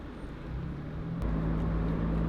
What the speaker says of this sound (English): This exhaust, it's outrageous, this Monza exhaust.